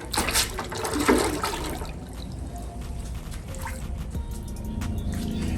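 Water running into a rinse bucket for washing a car, a steady rushing fill that is a little louder at the start and then settles into an even, continuous flow, with no voices.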